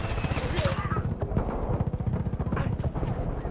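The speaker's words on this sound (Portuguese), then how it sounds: "Mano, eu tô tomando uns tiros." Rapid automatic gunfire bursts in Far Cry 5 co-op play, dense repeated shots running through nearly the whole stretch, loud and close, with a player's voice talking over the shooting.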